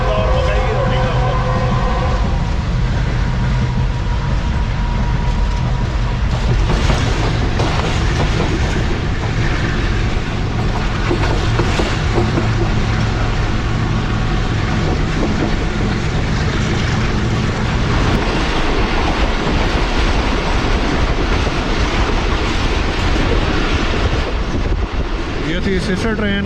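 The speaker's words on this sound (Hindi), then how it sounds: "ये थी सिस्टर ट्रेन 7 अप तेज़गाम जो कल से निकली हुई है कराची से रावलपिंडी के लिए।" Tezgam passenger train passing close by, a loud continuous roar of wheels with rapid clickety-clack over the rails lasting the whole stretch, no talk.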